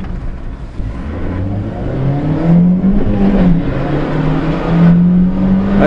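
A Japanese mini-truck, a classic JDM import, accelerates through the gears, its small engine note climbing, dropping at each shift and climbing again, loud and close with no talk over it.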